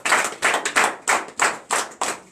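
A church congregation claps in a steady, rhythmic beat, sharp repeated hand claps at an even tempo with no voices over them.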